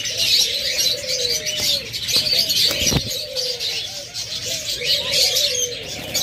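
Caged ghughu and diamond doves coo repeatedly in soft, overlapping calls, close by, amid a busy bed of chirps from other small birds and occasional wing flutters.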